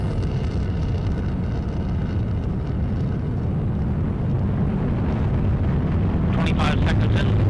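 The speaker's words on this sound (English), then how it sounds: "Delta IV rocket carrying the App Space 4 mission for the United States Air Force" Delta IV rocket carrying a US Air Force mission during its first-stage ascent, a loud continuous broadband roar that swells near the end, with a voice giving ascent calls over it.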